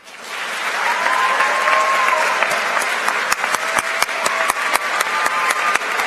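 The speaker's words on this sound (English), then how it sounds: "Honored musicians, please rise to receive our applause." A school awards ceremony audience applauds honored student musicians, a dense, steady wash of clapping that holds for several seconds, with a few sharper individual claps standing out near the end.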